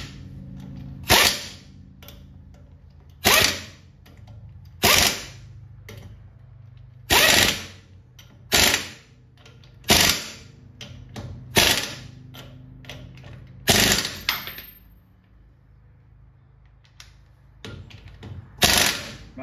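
Impact wrench bursts on the front wheel lug nuts of a 1959 Chevy Impala, about a dozen sharp, loud rattling hits spaced a second or two apart, with quieter garage noise between them.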